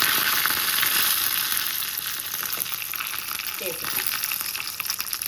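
Lentils, mustard seeds, cumin, dried red chillies and curry leaves sizzle steadily in a small amount of hot oil for a Telugu tempering, a close, continuous crackle with occasional stirring and no talk.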